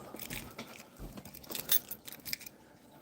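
Keys jangle faintly in a few quick metallic bursts, close by and fairly quiet, with brief gaps between the shakes.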